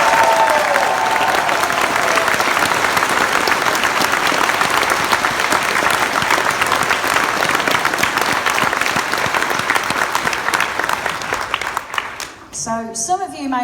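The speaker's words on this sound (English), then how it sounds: "Give yourself a clap." An audience at a charity closing event applauding loudly and continuously for over ten seconds before it fades out, and a voice begins speaking at the end.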